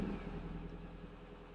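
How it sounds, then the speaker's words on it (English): A Nissan S-Cargo van engine idles at low volume, giving a steady, faint rumble that stays even throughout with no voices. "What I'm going to do now is start the vehicle up for you."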